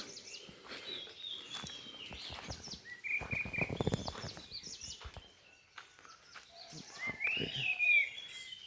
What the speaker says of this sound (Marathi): पक्ष्यांचा चिलबिल आवाज